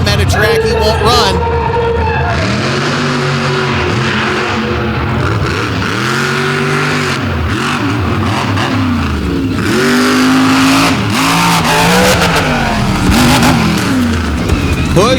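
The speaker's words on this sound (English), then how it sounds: "Pushing the big Jeep hard," A big Jeep monster truck revs hard at an outlaw monster truck drag event in Canfield, Ohio, its engine repeatedly rising and falling in loud, rough surges under an announcer's continuous commentary.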